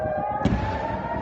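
A single sharp blast booms out of a steady rumbling background, an explosion during a night airstrike heard at a distance amid ongoing noise.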